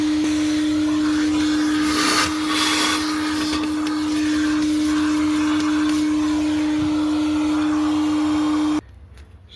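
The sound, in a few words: vacuum cleaner sucking ash from steam locomotive firebox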